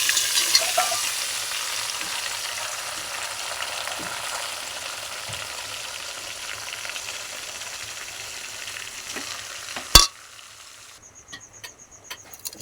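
Onions and tomatoes sizzle in a pan of oil for a tomato curry, with a steady hiss and occasional stirring scrapes. A loud clank near the end is followed by a quieter sizzle.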